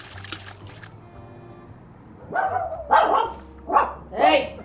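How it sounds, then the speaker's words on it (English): A dog in the video game Aquarist barks as it walks by, giving three or four loud, close, separate bark bursts after a quieter stretch, with a voice talking near the start. "there's a dog walking by. It's legit. They can bark."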